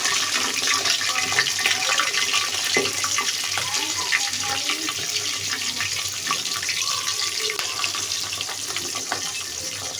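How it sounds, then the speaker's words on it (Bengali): Prawns fry one by one in hot oil, giving a steady crackling sizzle with watery hiss and small pops throughout, with no voices. "এখন আমি চিংড়িগুলি এর মধ্যে একে একে দিয়ে ভেজে নেব"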